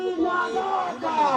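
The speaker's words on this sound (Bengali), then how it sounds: "আপনারা দেখতে পাচ্ছেন যারা ইসলামী আন্দোলনে রয়েছেন বিভিন্ন স্লোগান দিচ্ছেন।" Protesters from Islami Chhatra Andolan Bangladesh chant a slogan together at a street rally in Dhaka. The crowd's voices are loud, close and sustained in unison.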